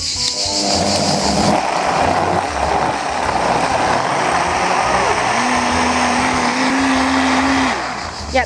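An electric blender whirs loudly and steadily, puréeing a seafood fish soup, a dense motor roar filling the whole stretch with a brief rising whine near the end; no one speaks over it.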